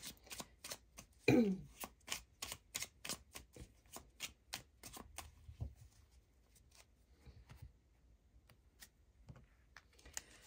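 Tarot cards are shuffled and drawn in a quiet room, a rapid run of crisp riffling snaps up close, trailing off into scattered soft flicks and taps of cards being placed.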